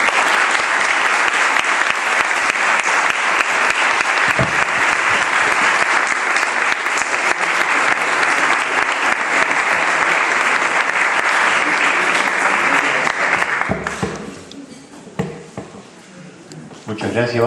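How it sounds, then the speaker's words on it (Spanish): An audience at a talk gives Father Sáenz a long, loud, sustained round of applause that fades near the end, leaving scattered claps and a few faint voices. "yo también le pido a ustedes un fuerte aplauso para el padre Sáenz"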